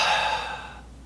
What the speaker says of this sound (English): The dreaded exhalation that drives us teachers crazy.